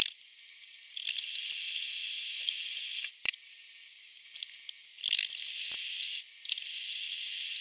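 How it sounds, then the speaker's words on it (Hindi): A sewing machine stitches along a kurti sleeve in several short mechanical bursts with brief pauses between them. The sound is close, clicking and whirring, with no talking. "अब हमने बाजू पर जो बाजू की मोहरी और आर्महोल का निशान लगाया था उस पर सिलाई लगा लेंगे।"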